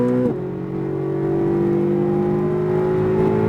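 Corvette Z06 on a race track at full throttle, engine pulling hard with a steady, loud, rising drone and a brief dip around an upshift near the start, then climbing again without pause.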